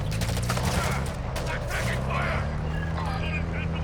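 Gunfire bursts in Call of Duty Warzone 2.0 DMZ on the Al Mazrah map, a steady clatter of shots from behind and not far off, running under ongoing talk.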